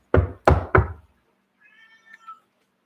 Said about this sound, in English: Y'all hear my cat?